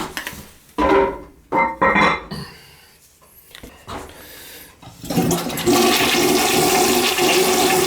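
A malfunctioning toilet in a rental property flushing, with bursts of rushing water and clunks early on, then a loud sustained gush of refilling water close to the microphone, no one talking.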